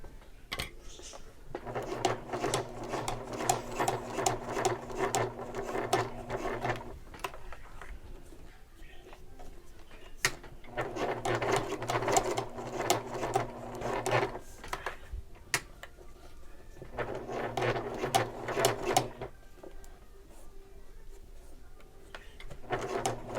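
A sewing machine runs a seam about an eighth of an inch from the edge of a shoulder bag, in three close, steady whirring bursts separated by short pauses.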